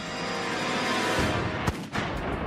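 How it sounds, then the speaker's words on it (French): A single loud gunshot cracks over a dense, droning dramatic background sound, followed by a short rumbling echo. "Un coup de feu retentit."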